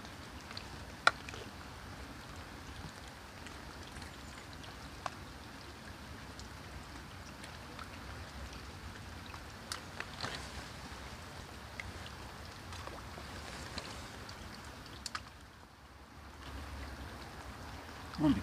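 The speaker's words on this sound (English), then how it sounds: "Wouldn't be great if this rain had stopped for a bit." Steady rain patters on water and the surroundings at a fishing spot, a dense even hiss with scattered louder drops and small knocks, no talking.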